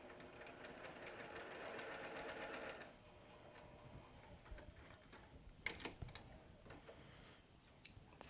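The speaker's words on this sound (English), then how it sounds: "we're going to stitch that pinned side together" A sewing machine runs fast, stitching a pinned side of fabric together for about three seconds with a rapid mechanical whir, then stops, leaving faint clicks and handling noises.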